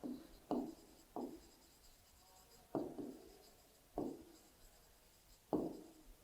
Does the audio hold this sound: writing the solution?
yes